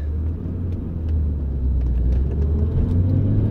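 Inside a 1986 Porsche 928 on the move, a continuous loud low road and engine rumble holds steady, with faint ticks and rattles above it and no talking.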